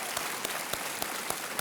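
Studio audience on a quiz show bursts into even, sustained applause, a dense steady patter of many hands with a few sharper claps standing out.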